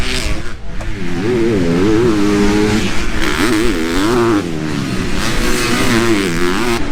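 Motocross motorcycles at full throttle on a dirt track, engines screaming loudly in rising and falling revs as the riders race close by, sustained without pause.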